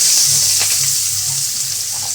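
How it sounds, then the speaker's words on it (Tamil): Mustard seeds splutter in hot oil, a loud steady bright sizzle with fine crackling pops close up, no voices. "கடுகு நல்லா பொரிஞ்சிருச்சு"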